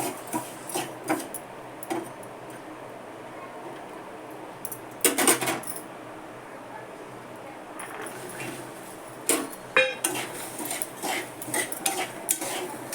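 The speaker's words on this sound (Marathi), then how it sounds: "आता हे चांगले एकसारखे छान भाजून घ्यायचे गॅस मोठा करून पण एकसारखं हलवत राहायचं" Peanuts roasting in hot salt in a pan on high heat, stirred with a utensil, giving scattered rattling, gritty scrapes and clinks in irregular bursts, close and moderate in volume.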